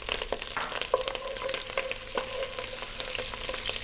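Chopped celery and thyme sizzle in olive oil in a soup pot, a bright crackling hiss punctuated by scattered clicks and scrapes of a spoon moving the vegetables.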